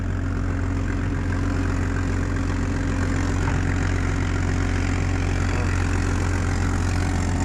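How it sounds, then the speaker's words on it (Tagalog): A boat engine with a broken exhaust chugs loudly and steadily with a rough, rattling exhaust note, a constant low throb throughout, during a sea trial. "Iba na talaga ang tunog dito ng ating tambutso."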